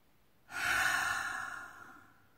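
A single deep breath drawn in during a guided relaxation and self-healing breathing exercise, a long soft airy rush that swells, holds and slowly fades, close and alone with no talk.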